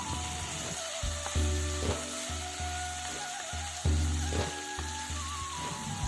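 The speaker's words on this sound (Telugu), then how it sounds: "ఇప్పుడు ఇందులో పెద్దగా కట్ చేసుకున్నటువంటి 1 టమాటా ముక్కలు కూడా వేసుకొని బాగా ఫ్రై చేసుకుందాం." Onion and tomato pieces fry in a pan, giving a steady sizzle broken by repeated scraping strokes of a spatula against the metal, close and clear with no voices.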